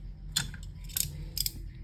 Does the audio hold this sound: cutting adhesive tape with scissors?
yes